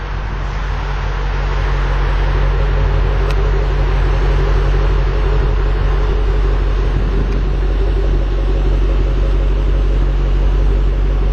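A 2010 Shelby GT500 Coupe, with about 5,525 miles on it, idles after start-up: a steady, loud, deep engine rumble that holds even and unbroken from beginning to end, with no voices over it.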